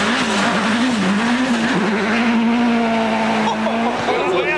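A Toyota Celica rally car races in World Rally Championship competition, its engine droning loud and steady with shifting pitch and tire noise close by, the roar continuous throughout.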